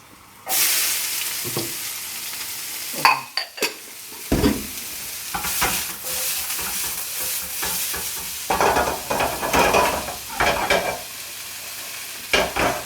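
Mushrooms sizzling in a hot pan while being stirred for tagliatelle carbonara: a steady frying hiss broken by repeated scraping and stirring bursts, close and fairly loud, with no voices.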